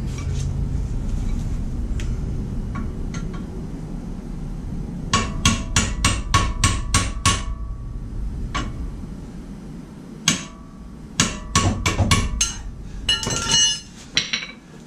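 A hammer strikes a Jeep TJ axle in a run of about seven hard metallic blows near 5–7 s, then more scattered clanging whacks after 10 s, loud and close with some low shop rumble and no talk.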